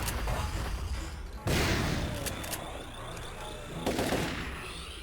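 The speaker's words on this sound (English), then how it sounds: "let's switch to the shotgun" Shotgun blasts from the Turok 3: Shadow of Oblivion video game, two loud broadband bursts a few seconds apart over a dense, continuous game-audio backdrop with ringing tones.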